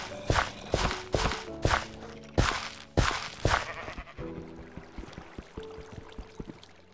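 Sheep in the Minecraft video game bleat in a run of loud, close calls, one after another during the first four seconds, followed by softer clip-clopping steps and small game sounds.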